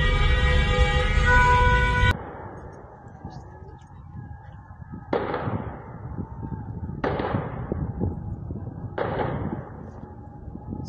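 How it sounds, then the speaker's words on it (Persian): Gunfire rings out during street protests in Sanandaj, Iran. A loud tonal blare comes first and cuts off, then three sharp reports follow, each about two seconds apart and each trailing a brief echo. "صدای تیراندازی"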